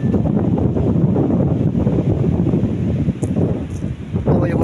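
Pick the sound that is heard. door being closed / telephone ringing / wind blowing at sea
wind blowing at sea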